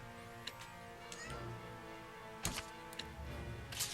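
A cat meows several short times within a video game, each call brief and separated by pauses, over a quiet background with light ticking sounds.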